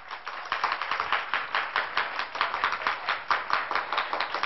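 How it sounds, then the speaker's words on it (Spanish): A studio audience claps steadily together at a Spanish-language TV singing contest, with dense, even applause holding at a constant level throughout, alone without talk. "Ahora sí, el aplauso para mi riquiquiqui del equipo naranja."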